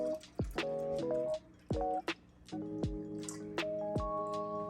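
Fresh top-off water is poured into the return chamber of a small saltwater reef aquarium kit, producing irregular close drips, plinks and gurgling splashes with ringing bubbly tones, no talk.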